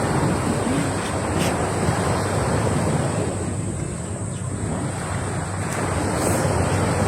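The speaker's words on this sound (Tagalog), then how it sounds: "Dagat." Sea waves wash in a constant broadband roar, with heavy wind buffeting the microphone throughout. No voices are heard.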